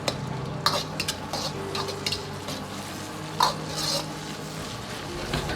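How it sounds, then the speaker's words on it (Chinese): Spices tossed with Pixian chili bean paste in a hot wok for spicy braised lamb trotters, a steady low sizzle under repeated scraping and clinking strokes of the spatula against the metal. "接着下入喷干水中的香料，炒出香味，炒出香料里边多余的水分"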